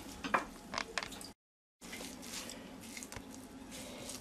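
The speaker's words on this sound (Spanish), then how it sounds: "Y ahora lo seguimos mezclando la miga de pan otra vez con todo esto, bien repartido" Meatball mixture being worked together with soaked, well-drained breadcrumbs, giving soft, close squishing and stirring sounds in uneven bursts, with a brief silent break midway.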